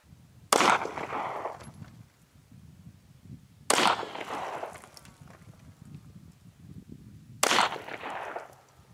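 Three sharp 9mm gunshots firing cast bullets over a chronograph, evenly spaced about three seconds apart, each loud crack with a short ringing tail outdoors.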